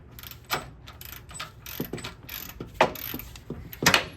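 A ratchet wrench loosens a control arm bolt on a Ford Ranger during upper control arm replacement, giving several short bursts of rapid metallic clicking spread across a few seconds, fairly close and clear with no talking.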